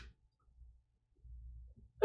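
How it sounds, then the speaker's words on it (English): A single sharp sneeze bursts out loud and close at the very end, after a near-silent stretch with faint low breathing. "So I'm gonna sneeze."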